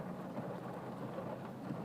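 Steady rain falls while a car is backed up, a dense, even wash of rainfall drumming without pause, with a low rumble underneath and no voices.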